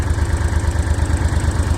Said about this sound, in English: Engine starts first time, no problems there.